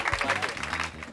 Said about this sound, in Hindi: अब आप ताली बजाएं उनके लिए।